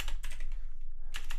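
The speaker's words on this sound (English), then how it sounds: "wow, typing" Computer keyboard typing in quick bursts of clicks, close and fairly loud, with a short pause before a final flurry of keystrokes, no talking.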